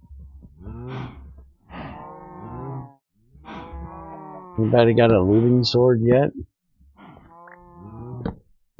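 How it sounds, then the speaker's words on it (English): Cows in the video game Minecraft moo in several loud, drawn-out calls, clustered in the middle of the clip, while someone talks over them. "somebody needs to kill these cows"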